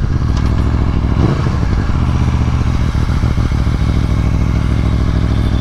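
A Victory motorcycle with a 106 engine idles loud and close, a continuous throbbing rumble with steady clattering pulses and no pauses.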